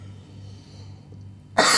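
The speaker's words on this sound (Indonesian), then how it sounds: "Maaf ya kalau agak tiba-tiba suaranya kencang, saya lagi batuk." A single loud, close cough bursts out near the end of a quiet stretch with only a low steady hum beneath.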